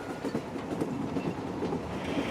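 A train runs along a railway in India, a steady continuous rumble of wagons rolling past at close range with faint rhythmic clatter, no voices.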